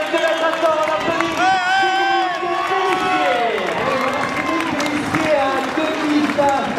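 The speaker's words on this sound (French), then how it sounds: "Allez Cédric, quelques mètres encore, on applaudit" Spectators at the finish of the 2012 Toulouse Marathon applaud and cheer a runner as he approaches the line, with sustained clapping and crowd noise under a loud announcer's voice.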